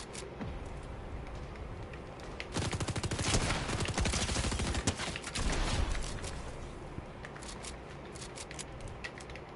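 Fortnite gunfire: a long stretch of rapid, crackling automatic shots bursts in loudly after a couple of seconds and rattles on for several seconds before trailing off into sporadic pops over constant game ambience.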